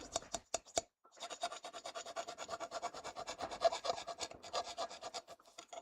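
A hand file rasps a machine burr off a metal lip in a garage, a few sharp separate strokes followed by a fast, steady run of close, quiet scraping strokes.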